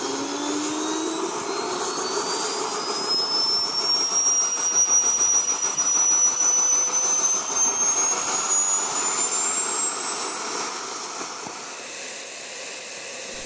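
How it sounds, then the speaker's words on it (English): A JetCat turboprop engine on a model SIAI-Marchetti aircraft whines steadily and loudly throughout, a high turbine tone slowly rising in pitch over a broad roaring rush, with no voices. "engine powering the propeller"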